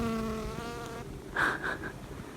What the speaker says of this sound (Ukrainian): І, до речі, бджоли, бджоли прилітають на квітки.